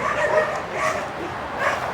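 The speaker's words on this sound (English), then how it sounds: "those dogs don't sound happy" Dogs bark and yip at a distance, faint and intermittent over outdoor background noise along a walk.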